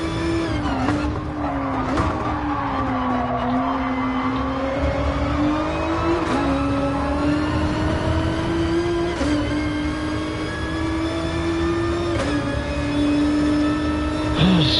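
Toyota Supra race car engine in Gran Turismo Sport at Kyoto Driving Park, a loud sustained high-revving drone that rises and dips through gear changes, with brief tire squeals and other cars around.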